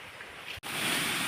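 Water rushing at Pangpang Falls, a waterfall, forms a steady broadband roar that briefly cuts out, then returns louder and fuller, with no voices.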